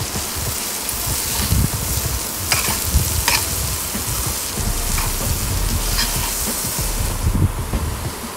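Broad beans fry with salt in a pan as they are stirred, giving a steady close sizzle with occasional scraping stir sounds throughout.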